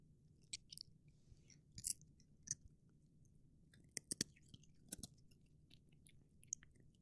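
A dog crunches and chews a treat up close, with sharp irregular crunches and wet chewing scattered over quiet room tone, no talking.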